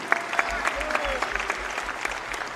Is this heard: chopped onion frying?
no